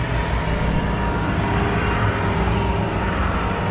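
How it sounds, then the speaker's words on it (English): Tractor towing a square baler rolls past outdoors on farmland, a steady, loud, broadband engine roar with deep low rumble that holds evenly throughout, no voices. "Tractor and a square baler going by."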